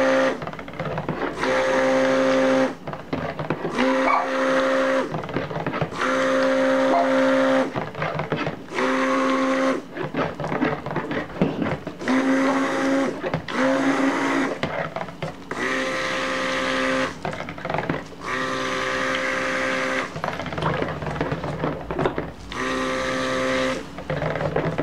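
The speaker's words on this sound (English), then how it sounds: "so I will blend this" A blender whirs through strawberry lemon soap ingredients with shea butter added, running loud and steady in several long bursts separated by short pauses, with no talking.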